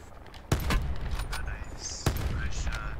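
Two sharp gunshots crack in a shooter video game, the first near the half-second mark and the second about a second and a half later, each loud and close with a quick decay, while players talk over the game.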